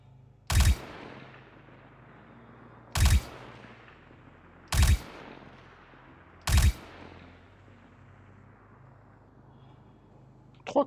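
An assault rifle in Star Citizen fires four evenly spaced short bursts, each a sharp loud crack with a decaying echo tail, separated by quiet gaps of about two seconds.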